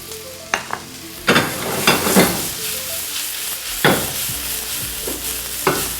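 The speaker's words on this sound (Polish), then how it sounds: "Cebulę zostawiam, aby dalej nam się smażyła." Onion for a vegetarian lecsó, cooked with star anise, fries loudly in a pan with a steady sizzle, broken by repeated scraping stirs of a utensil; close and clear, with no talking.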